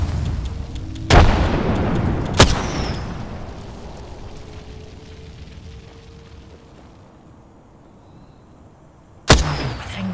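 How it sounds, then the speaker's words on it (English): A thermite grenade is thrown and ignites in the shooter game Apex Legends. Sharp loud bursts are followed by a sustained fiery hiss that slowly fades, then a final sudden burst near the end. "Flinging thermite."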